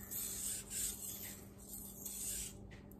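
A Miyabi Mizu 9.5-inch kiritsuki knife rubs across a Japanese water stone with light pressure in short, even, close strokes, a soft gritty rasp that rises and falls with each pass.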